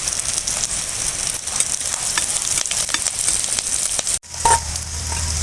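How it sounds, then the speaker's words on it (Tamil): Garlic and curry leaves sautéing in a pan, a loud continuous sizzle with crackles close up, broken near the end by a brief dip and a fresh burst of frying. "இப்போ பூண்டை சேர்த்துக்குவோம் கருவேப்பிலையை நம்ம உள்ளே சேர்த்துக்குவோம்"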